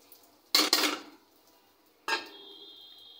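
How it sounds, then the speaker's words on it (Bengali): Pan clatter from a home kitchen making bitter gourd and potato bhaji, followed by a sudden hiss and sizzle as onion and chili hit hot oil, the sizzle easing off but continuing. "প্রথম তেল দিলাম, আমরা এখন পেঁয়াজ আর মরিচ দেব।"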